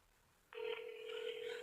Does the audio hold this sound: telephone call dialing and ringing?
yes